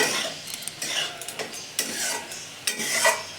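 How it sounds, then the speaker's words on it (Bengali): A spoon stirs vegetables in a pot of oats khichuri on a lowered gas flame, giving repeated scraping and rubbing strokes with light metallic clinks, close and steady. "একটু নেড়ে দেখবো কতটা সেদ্ধ হয়েছে সবজিগুলো"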